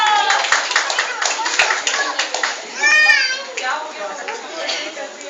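An audience claps loudly for a prize winner at a stage event, a dense burst of applause with children's voices and chatter mixed in.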